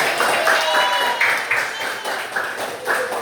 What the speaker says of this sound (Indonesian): Tepuk tangan buat kita semua untuk hari ini